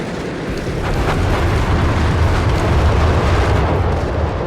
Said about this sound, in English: I'll just have a huge bombardment